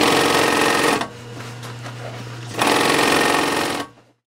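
An industrial sewing machine stitches a garment in the 1940s construction style, running loud in two steady bursts with a short quieter pause between them before stopping.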